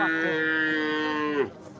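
A single long, loud moo from a calf at a cattle market, drawn out for over a second before cutting off, with faint background noise afterward.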